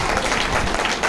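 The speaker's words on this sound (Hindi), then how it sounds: "बजाओ ताली आप सेगड़ा साहब के लिए" An audience gives a brief, dense burst of applause at a Gita seminar in Jaipur, steady clapping lasting about a second.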